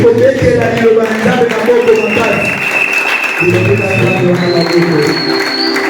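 A church congregation applauds steadily at a Friday evening teaching service, the clapping blending with voices and a sustained musical tone throughout.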